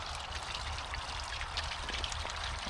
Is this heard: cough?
no